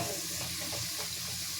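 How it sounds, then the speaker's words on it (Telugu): Sliced onions for chicken biryani frying in a pan, a dense steady sizzle with faint stirring scrapes, close and continuous. "ఇప్పుడు ఆనియన్ కంప్లీట్గా ఫ్రై అయిపోయింది"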